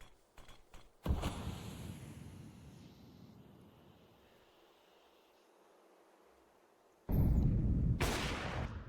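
Two loud, close gun blasts in Counter-Strike on the Dust2 map, one early and one near the end, each a sharp crack trailing into a noisy decay, with a quieter hissing lull in between.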